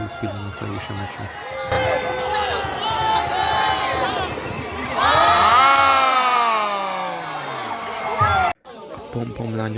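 A large stadium crowd at a South Korean match cheers and chants in loud rhythmic unison, led by cheerleaders. Voices swell to a peak midway, then drop out abruptly near the end before the chanting resumes.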